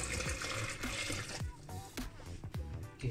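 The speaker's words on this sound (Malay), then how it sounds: "Kita tambah air." Water pours into a blender jar holding garlic, a steady splashing fill for about a second and a half, then lighter trickles and clinks in a quiet kitchen.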